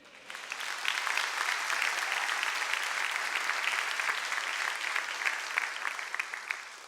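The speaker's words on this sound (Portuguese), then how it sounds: "Quem pode aplaudir o Senhor?" A church congregation applauds the Lord during a sermon, many hands clapping in a lively, sustained burst that swells quickly and stays strong before easing off at the end, with no talking over it.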